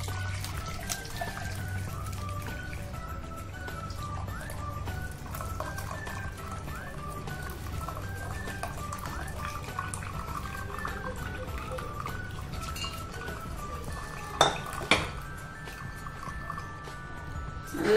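Murungai keerai stem soup is pressed through a strainer with a ladle, giving soft, faint liquid trickling and dribbling with a few light metallic clinks near the end.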